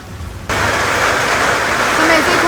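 Heavy rain near Bali and Nusa Lembongan starts suddenly as a loud, steady wash of downpour that runs to the end of the clip.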